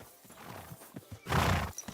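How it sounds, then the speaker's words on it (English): A horse in Kingdom Come: Deliverance II clip-clops with a few hoof steps, then gives a loud close whinny. "Where's my horse?"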